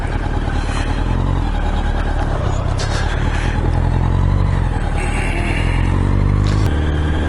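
A 1988 Honda CBR1000F carbureted motorcycle engine drones loud and steady while riding, wind and road rumble blending with the engine, and the pitch shifts slightly near the end.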